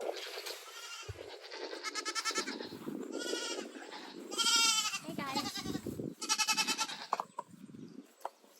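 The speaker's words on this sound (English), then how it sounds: "And our goats." Goats on a Big Island, Hawaii homestead bleating repeatedly, several loud wavering calls in irregular bursts, fairly close, with quieter rustling between them.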